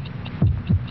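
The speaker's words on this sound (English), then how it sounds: "72 heartbeats." Heartbeat sound effect in an old Bufferin television commercial: two deep, thumping beats about a third of a second apart over a low steady hum, close and prominent with no speech.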